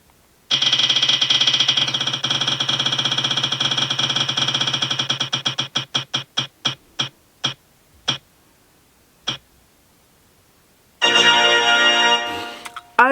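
A name-picker wheel spun for a knitting podcast giveaway: a fast rattle of clicks that gradually slows into sparse, widely spaced ticks and stops, followed by a short, bright burst of celebratory sound.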